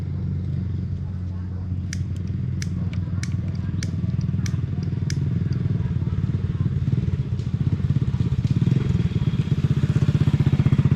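A motorcycle engine putters at close range in a low, steady rhythmic throb, with sharp metallic clicks and knocks early on and a rising, louder engine note toward the end.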